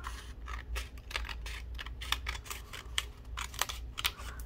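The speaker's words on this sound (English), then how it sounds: "So I'm going to go ahead and cut just a strip." Scissors cut a strip of paper with a rapid run of crisp snipping clicks and rustles, close and fairly quiet, repeating unevenly throughout.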